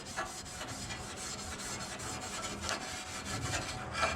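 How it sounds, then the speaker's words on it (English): A Scotch-Brite pad scrubs bare metal on a Camaro body being treated with Ospho, giving a steady run of close, rasping back-and-forth strokes with no talk. "I'm going to go ahead and take my Scotch-Brite pad and go ahead and kind of scrub it a little bit"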